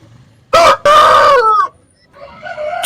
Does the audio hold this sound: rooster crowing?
yes